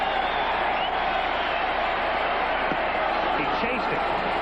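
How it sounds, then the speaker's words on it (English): A Baltimore crowd at the 1983 World Series baseball game at the Orioles' park makes a steady wash of cheering and hollering that is broad and continuous, with no single standout peak. "the Baltimore crowd trying to get their ball players up"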